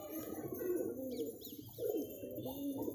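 Bhutan pigeons coo in low, throaty rolling calls close by, overlapping one another, with a few higher chirps mixed in.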